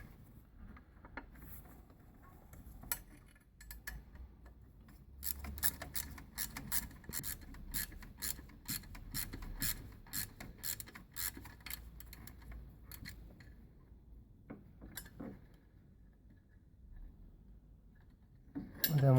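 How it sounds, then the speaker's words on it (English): A ratchet clicks off a 10mm nut on a Ford Galaxy/S-Max/Mondeo 2.0 TDCi diesel fuel filter housing. The quiet, rapid metallic clicks come in bursts with light tool clatter. "we have 10mm nut just here, so we're gonna undo this one as well"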